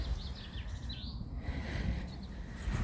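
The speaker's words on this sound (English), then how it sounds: "Hear the little birds tweeting." Small birds tweet and chirp in a Scottish graveyard, faint high calls scattered over steady low outdoor background noise, with no talking.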